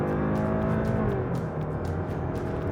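A Kia Sportage in sport mode holds its lower gears, the engine droning steadily with a rising, revving tone heard from inside the cabin, continuous and moderately loud throughout.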